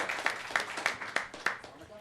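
A lecture audience at a talk on communication and coordination in experiments gives a few faint, distant handclaps. They are spaced evenly at a slow, steady rhythm over quiet room background.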